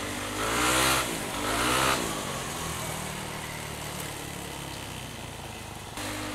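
Yamaha Aerox motor scooter with upgraded rear suspension riding along, its engine rising twice in revving swells before settling into a steady, moderately loud running drone with wind noise.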